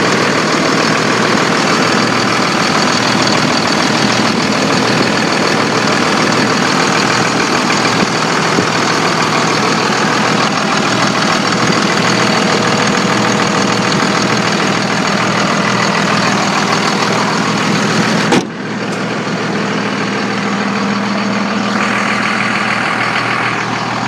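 A 2002 Dodge Ram 3500 Cummins 24-valve diesel pickup engine idles steadily and loud up close, a constant low rumble with a rattly knock, shifting tone briefly near the end.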